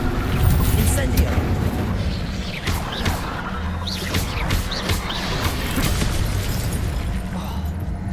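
Incendio fire spell cast in the Hogwarts Legacy video game: a series of booming, crackling bursts and whooshes over a rumbling bed, with a voice briefly heard in the mix.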